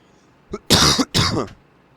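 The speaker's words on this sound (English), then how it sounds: "I've been having the coughs lately" A person coughs and clears their throat in two or three close, harsh bursts, near and fairly loud, with no speech around them.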